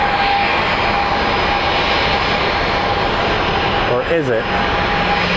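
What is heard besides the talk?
passenger jet departing Phoenix Sky Harbor airport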